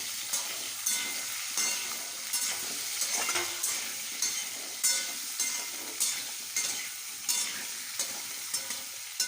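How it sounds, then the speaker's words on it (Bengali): Potato and pumpkin pieces seasoned with salt and turmeric fry in oil, a steady broadband sizzle with regular rhythmic stirring scrapes roughly every second, close and fairly loud, no talking. "এরপর আলু আর কুমড়োটাকে ভেজে নেব।"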